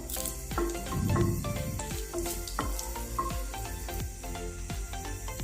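Dried red chillies crackle and sizzle in hot oil in a wok, a steady close frying hiss with bursts of popping, loudest near the start, and no voices.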